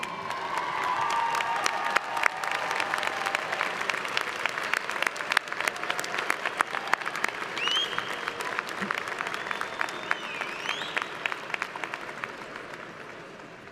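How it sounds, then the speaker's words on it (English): A large graduation audience at a university commencement gives a long, steady round of applause, dense clapping filling the hall with some scattered cheers, gradually tapering toward the end. "Stand up, give a big round of applause to those who are here today who have supported you"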